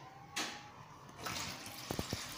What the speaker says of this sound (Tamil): இப்போ நம்ம பச்சை தண்ணியில் ஒரு முறை வாஷ் பண்ணிக்கலாம்.